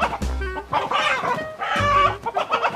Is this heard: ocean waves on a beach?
no